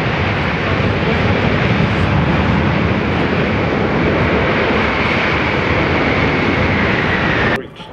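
A KC-30 tanker aircraft flies low at about 1,500 feet over the Avalon Airshow, its engines a loud, sustained broadband roar that holds steady before cutting off abruptly near the end.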